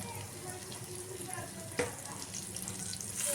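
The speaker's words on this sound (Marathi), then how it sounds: "तर आता मी इथे हे स्टफ केलेले जे पापलेट आहे ते फ्राय करून घेणार आहे." Stuffed pomfret in green masala fries in hot oil, a steady soft sizzle close by with one brief sharp crackle midway; faint background murmur.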